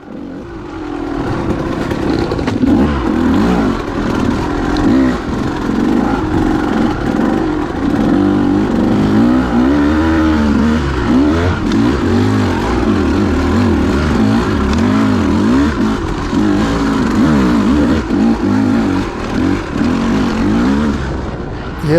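A KTM 200 dirt bike engine buzzes and revs continuously while being ridden off-road, its pitch rising and falling with throttle changes, loud and close throughout with no talk.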